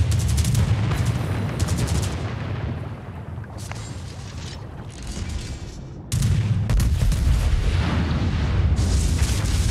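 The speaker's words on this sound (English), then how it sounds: "I'm going to broadside his ass in opposite direction." Battleship Tirpitz firing its broadside guns in World of Warships, heavy booming salvos rolling out in repeated loud volleys with rumbling low-end echoes between shots, no voices over them.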